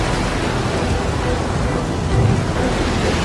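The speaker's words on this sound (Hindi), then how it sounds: "यह भयंकर तूफान मेरी वजह से तुम पे आया है।" Thunderstorm at sea in a dramatized story of the prophet Jonah, a loud continuous roar of wind, rain and rumbling thunder with no voices.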